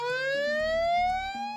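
Ambulance siren, a loud wailing tone rising steadily in pitch, with faint low rumbling pulses beneath it and no talk.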